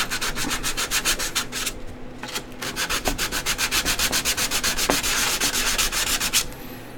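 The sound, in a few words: sanding stick rubbing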